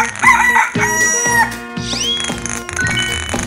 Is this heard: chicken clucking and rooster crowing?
yes